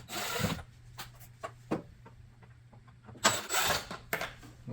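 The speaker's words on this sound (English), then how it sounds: "we're going to start over here by snatching the screws out of our air box" Screws being removed from the air box of a 2015–2023 Jeep Renegade with a 2.4L engine: several short, sharp ratcheting and clicking bursts with quiet gaps, close by, with two longer whirring passes.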